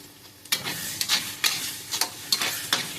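Ground masala paste for a mushroom gravy fries in a pan, a soft hiss broken by regular stirring scrapes about every half second, close up with no talking.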